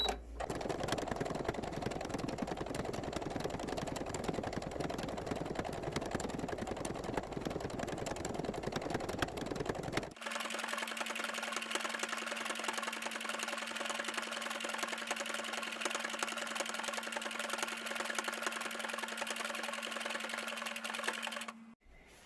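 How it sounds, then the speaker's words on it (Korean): A sewing machine runs embroidery stitching on a hot pack pouch, a steady close mechanical whirr that changes character midway into a smoother, tonal hum before stopping abruptly. "자수 박음질 시작합니다."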